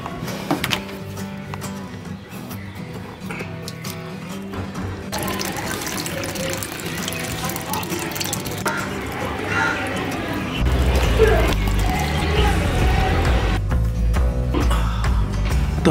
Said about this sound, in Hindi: तो आज मैंने सोचा क्यों ना मैं अपने पौधों को पानी दे दूँ।